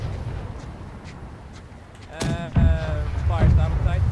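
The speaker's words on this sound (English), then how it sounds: "Oh god, mortar's coming!" Mortar fire in the pirate ship game Black Wake, with a heavy low-end boom around the middle followed by rumbling blasts and a lingering roar, loud and close, alongside a voice in the game's din.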